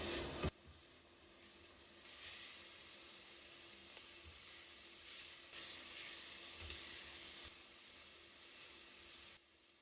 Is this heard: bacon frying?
yes